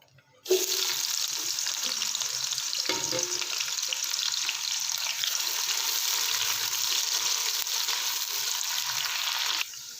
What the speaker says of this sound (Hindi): ये देखें, प्याज जो है गोल्डन ब्राउन हो चुके हैं।